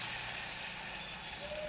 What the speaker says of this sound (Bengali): এবার এক এক করে এই বেসনের চপের ইয়েগুলো আর কি, যেগুলো করে রেখেছিলাম, একটু একটু করে চামচে করে দিয়ে দেবো।